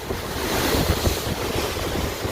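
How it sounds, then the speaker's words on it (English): Ocean waves surge and crash against the Carnival Panorama cruise ship in a steady, loud roar, overlaid with heavy buffeting wind noise on the microphone from the open deck. "Those waves are insane right now."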